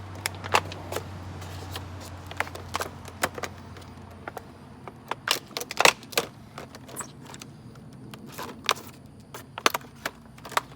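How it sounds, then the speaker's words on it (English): A knife slitting the packaging of a Zurich ZR13 OBD2 code reader: a close run of sharp, irregular clicks and crackling snaps of plastic over about ten seconds, with no voice. "So let's go ahead and open this thing up. Cut along the edges here."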